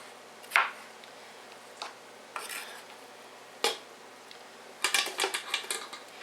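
Potatoes clatter into a full metal soup pot in a home kitchen, a series of irregular knocks and thuds, some spaced apart and a quick cluster near the end, with no talking.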